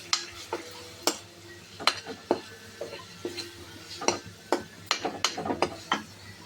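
A spoon stirring masala powder into aloo biryani in a pot gives irregular scraping clinks against the metal, quick taps and scrapes in an uneven rhythm, with a faint sizzle underneath.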